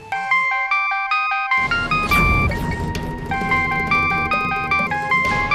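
A bright electronic phone ringtone plays a repeating chiming melody, loud and close, with a brief clattering burst in the middle.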